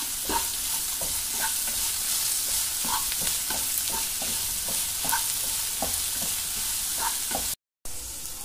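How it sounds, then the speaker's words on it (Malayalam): Potato masala filling for crispy masala dosa sautéed in a pan, a continuous loud sizzle broken by regular spatula stirs and scrapes, with a brief dropout near the end and no talk. "വഴറ്റിയെടുക്കാം"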